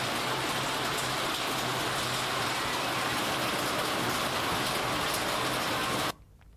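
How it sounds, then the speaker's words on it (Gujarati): Steady rain pours down in Baben village near Bardoli, a dense even hiss that holds constant at close range and then cuts off abruptly near the end. "બારડોલીના બાબેન ગામમાં વરસાદ પડ્યો।"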